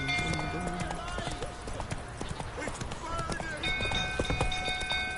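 Hooves of Roach, a horse in The Witcher 3, clip-clop at a fast gallop in a quick steady rhythm, close and clear, under game music and a spoken voice.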